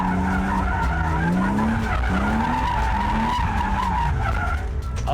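A drift car skids and slides with continuous tire squeal wavering in pitch over a steady engine roar, loud and close throughout.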